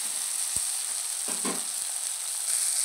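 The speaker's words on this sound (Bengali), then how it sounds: "ভালো করে মশলার সাথে ভেজে নেবো, নাহলে আদা রসুনের কাঁচা গন্ধ থেকে যাবে" A spice paste with ginger and garlic fries in a pan as an ingredient for a rustic chela fish dish, making a steady, loud close sizzle with a couple of brief stirring scrapes.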